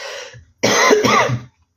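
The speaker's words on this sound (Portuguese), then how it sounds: "pigarro." A throat clearing, preceded by a softer breathy rasp and a short pause, then one loud, gravelly clearing of the throat up close.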